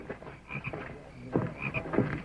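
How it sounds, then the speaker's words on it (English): Frogs croak inside a barn, a run of deep, raspy calls coming in bursts, some overlapping, moderately close and with no voices. "The frogs are in the barn."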